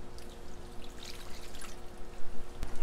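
Cilantro sauce pours over a Cuban-style pork shoulder, a soft wet trickle and glug lasting a few seconds, with a brief sharp clink near the end.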